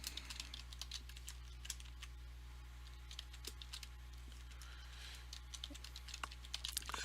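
Soft, quick keystrokes on a computer keyboard tap out an administrator password in an irregular stream of light clicks, fairly quiet and close, with a low steady hum underneath.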